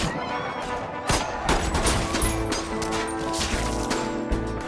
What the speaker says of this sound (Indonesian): Peluru berdesing di mana-mana